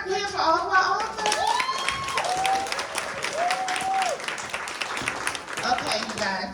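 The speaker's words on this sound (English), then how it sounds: "clap your hands for all of our authors" Audience applause for a group of women authors at a brunch event, steady clapping with cheering filling the room throughout, while a voice talks and sings over the top.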